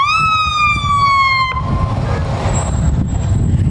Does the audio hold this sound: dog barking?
no